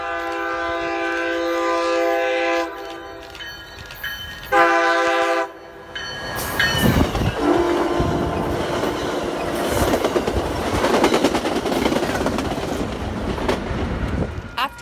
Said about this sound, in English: MBTA inbound 218 flew through Crossroad with Hyundai Rotem number